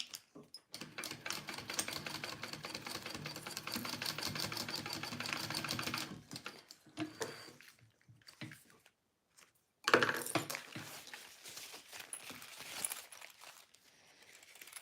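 A sewing machine runs close by with a rapid steady stitching whir for several seconds, pauses briefly amid small handling clicks, then starts up again stitching a seam on a fabric pouch.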